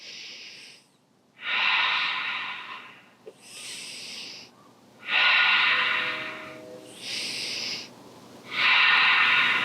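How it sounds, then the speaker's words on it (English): Slow, deep breathing during a guided relaxation exercise: several long airy inhales and exhales alternate with short pauses, close and clear, with no talking over them. "we're going to take big, deep breaths together and watch our pumpkin lift up and down"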